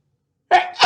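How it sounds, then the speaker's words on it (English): A single person sneezes close up, with a sharp two-part burst breaking suddenly out of silence. "And I'm about to sneeze,"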